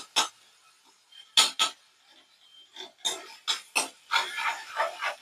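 Okra being stirred in a cooking pan, a series of sharp utensil scrapes and clinks against the metal, close and fairly loud, in irregular bursts with short quiet gaps between them.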